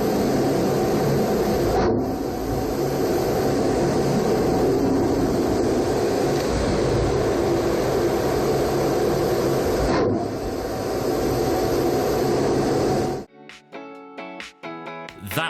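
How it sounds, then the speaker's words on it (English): An ASRAAM short-range air-to-air missile fires from an RAF Typhoon FGR4, a loud, continuous roaring rush that holds for about thirteen seconds before it cuts off abruptly, leaving faint clicks and rustles. "That was the sound of an advanced short-range air-to-air missile being fired from a Typhoon"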